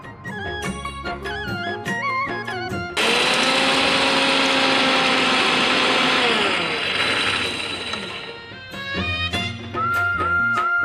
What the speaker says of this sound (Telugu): మిక్సీ పట్టేసుకుందాం